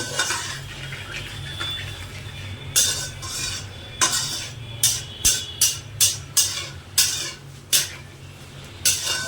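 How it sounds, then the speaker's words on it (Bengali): Spice masala frying for a mutton curry with bay leaves, stirred in a pan: a series of sharp scraping and clinking strokes of a utensil against the metal, loud and close, over a steady low hum, with no talk. "মোটামুটি দু মিনিট মতো মশলাটাকে ভেজে নেব"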